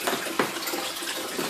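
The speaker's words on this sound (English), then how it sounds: "you can suck the water, clean the little stones, and in the same time you can get water coming inside" An aquarium gravel vacuum sucks water through the little stones while fresh water flows into the tank, giving a continuous close splashing, gurgling rush with a few louder surges and no talk.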